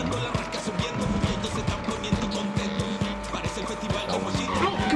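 Car driving in the video game Far Cry 6 on PS4: a steady engine drone with rapid tyre squeal and skidding bursts, continuous and fairly loud throughout, with faint talk mixed in.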